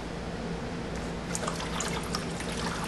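Coolant gushes and trickles into a spill pan as the water pump is pulled off an Audi/VW 2.7t or 2.8l V6 during a timing belt job, a soft continuous liquid splatter, close and steady.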